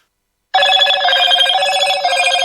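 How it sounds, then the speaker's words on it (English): A Motorola ThinkPhone ringtone starts abruptly after a brief silence, a loud, bright electronic ring with a rapid warbling pulse that continues steadily. "I wanted to show you what it sounds like when you have a Motorola phone."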